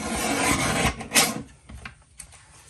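A We Are Memory Keepers paper trimmer slices through paper with a close, dry rasping cut, a strong swipe near the start and then softer scraping strokes.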